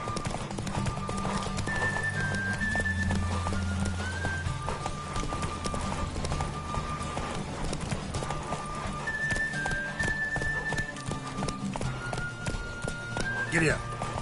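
A horse gallops in The Witcher 3 Wild Hunt video game, with steady rapid hoofbeats throughout, over game music and ambience and a brief whinny near the end.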